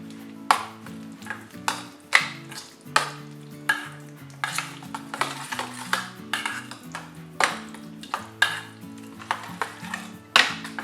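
Spoon stirring coriander powder, salt and curd together in a metal vessel, with repeated sharp clinks and taps against the side in an uneven rhythm, close and fairly quiet, no voices.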